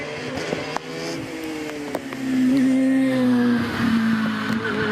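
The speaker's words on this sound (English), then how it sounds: "Paul Pruitt on the Jaguar engined OMS. V6 3-litre Jaguar" An OMS hillclimb race car powered by a 3-litre Jaguar V6 at a British Championship hillclimb at Doune, its sustained engine note holding steady and then swelling louder through the middle as it passes.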